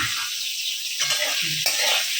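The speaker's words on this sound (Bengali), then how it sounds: "আলুটা আমার ভাজা হয়ে গেছে এবার উঠিয়ে নেব" Potatoes frying in a pan in oil produce a loud, continuous close sizzle, with brief stirring bursts partway through and no voices.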